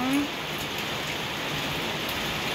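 Light rain and gusting wind from Typhoon Paolo in Luna, La Union, form a steady, even hiss of drops and airflow with no clear gaps, close and constant throughout.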